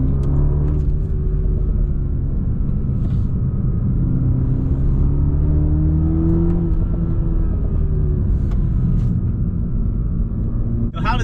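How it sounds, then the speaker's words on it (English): A Toyota Supra 2.0 engine and exhaust heard from inside the cabin, a steady muffled low drone and road rumble rising and falling gently in pitch while driving, with a voice talking faintly over it. "The exhaust sound from the inside of the car, not that great."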